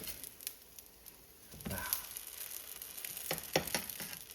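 Toast sizzles in a hot pan for a breakfast sandwich after being flipped, a steady close frying hiss with a few louder crackles and scrapes, and no talking.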